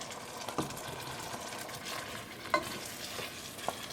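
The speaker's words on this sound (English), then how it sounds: "I'm going to put the potato mixture in" A potato mixture goes into cream in a pot and is stirred, a soft bubbling simmer with a few sharp clicks of a utensil against the pot, fairly quiet and close.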